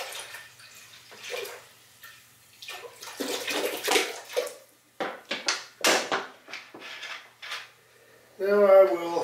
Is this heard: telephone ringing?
no